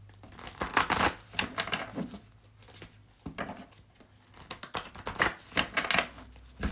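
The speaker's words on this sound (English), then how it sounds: "Do a little shuffle." Tarot cards being shuffled by hand in a series of quick, close papery riffles and flutters, with soft pauses between bursts and no talking.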